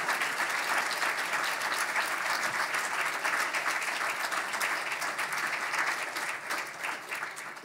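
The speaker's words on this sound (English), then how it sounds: "So might give a round of applause to all our finalists." Sustained audience applause at a student of the year awards ceremony for the finalists, a dense, steady wash of many hands clapping that stays loud throughout and thins slightly toward the end.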